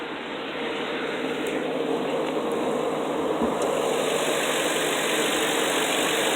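A Ford Crown Victoria V8 engine idles with a steady, even broadband rumble and hum, close and continuous throughout with no speech.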